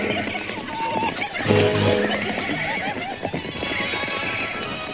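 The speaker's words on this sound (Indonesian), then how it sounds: "Ya, ada rombongan penunggang kuda lewat di jalan desa." A group of horses carrying riders passes along a village road, with a whinny and some hoof clatter over busy background activity and a steady ambient bed.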